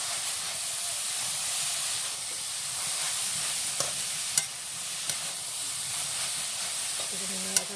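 Fresh pea greens (motor shak) simmer in water in a pan with a steady hiss and bubbling, broken by a few sharp clinks of a spoon stirring against the pan.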